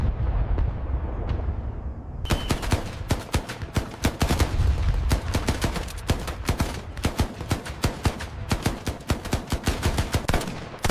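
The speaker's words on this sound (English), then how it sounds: "Ethan Miller was operating a 50 cal machine gun. He was firing continuously" A .50 caliber machine gun firing continuously in a wartime battle scene, sharp loud reports coming in rapid bursts and rattling volleys that run on for several seconds.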